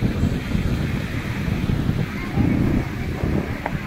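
Sea waves and wind at Arnala beach, with boats nearby, make a steady broad roar with rising and falling surges of surf under continuous wind noise.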